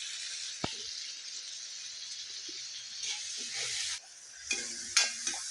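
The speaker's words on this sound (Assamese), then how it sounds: "পিঁয়াজখিনি ব্ৰাউন কালাৰ হোৱাত ইয়াত মই বিলাহী দি দিছো" Browned onions and tomatoes sizzle in hot oil in a pan for an Assamese recipe, with a steady frying hiss broken by several scraping stirs of a spoon, close and without talk.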